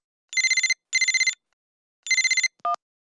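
An old-style telephone bell rings in three bursts of rapid trilling, with a gap between, followed by a short electronic beep.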